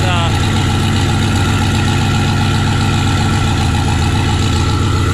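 A Corvette fitted with a new Powerglide transmission runs warm at a loud, steady idle, its deep rumble continuous and close throughout.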